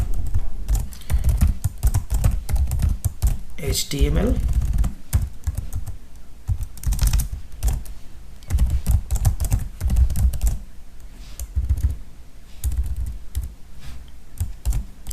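Typing out HTML code on a computer keyboard, a steady run of close, rapid key clicks with brief pauses, under ongoing background hum.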